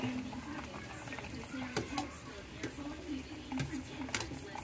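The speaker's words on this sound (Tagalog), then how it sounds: "Then sabay na natin itong talong. Distribute lang natin. Then halu-haluin lang na konti." Tilapia with lemongrass and eggplant stirred in a pan, giving soft scraping and clinking over a low, steady sizzle, with a few sharper utensil taps and quiet talk in the background.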